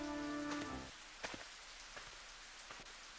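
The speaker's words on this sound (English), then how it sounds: "The rain was still pouring down." Rain pours steadily in a dense hiss from the video game Higurashi When They Cry, with a few scattered drop taps after a brief tonal musical sound fades out at the start.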